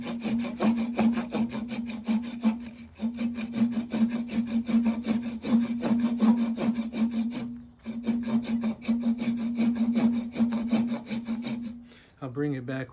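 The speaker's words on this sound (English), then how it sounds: "Just gonna saw the rest of it off and take it to the drill press." A hand saw cuts through a salvaged Pacific Yew log in steady, rasping back-and-forth strokes, close and continuous, with a brief pause midway before the sawing resumes and stops near the end.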